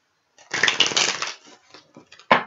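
Tarot cards being shuffled in hands slick with hand cream, a close burst of riffling and sliding card noise that trails off into softer scattered slips, then one sharp final snap of cards.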